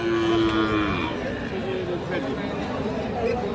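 A Sahiwal cow moos in a long low drawn-out call at close range at a cattle market, over a steady murmur of crowd chatter and livestock noise.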